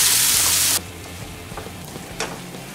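Coarsely ground spice masala fries in ghee. A loud, dense hiss cuts off abruptly to a softer, steady sizzle with scattered small pops, close by and without speech.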